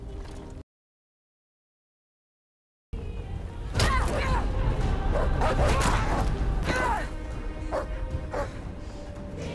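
A dog barks and yips several times nearby in a home setting, sharp bursts spread over a few seconds and mixed with people talking and other clattering noise, after a brief stretch of silence.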